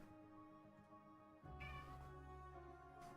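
A cat gives a single faint meow midway through, heard over quiet, steady background tones.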